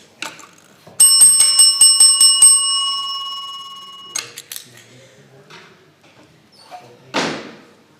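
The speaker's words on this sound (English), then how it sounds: "Ernie, ring the bell, ring the bell." A hand bell rung during a Wednesday night Bible class game gives a quick run of bright, metallic strikes that ring out together for about three seconds and then fade. A few knocks follow, and a loud clatter comes near the end.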